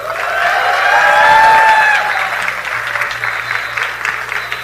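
Crowd applause at a Hollywood Walk of Fame ceremony honoring Gal Gadot: loud, dense clapping from a large outdoor audience that swells early, then gradually thins and fades.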